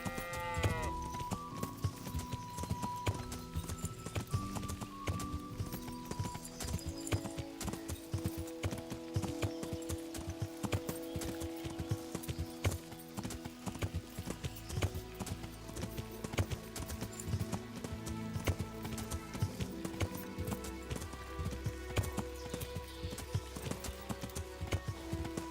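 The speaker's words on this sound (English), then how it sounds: "Back on the horse." A horse's hooves clip-clop in a steady, even walking rhythm through a medieval setting in Kingdom Come: Deliverance, with the hoofbeats running continuously alongside layered game music and ambience.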